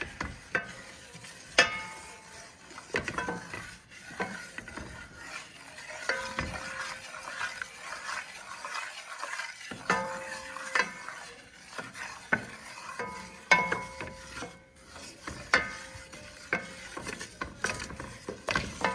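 A roux for gravy being stirred in a pot, with steady scraping and soft clinks of the spoon against the metal and a faint sizzle underneath, heard close up with no talking.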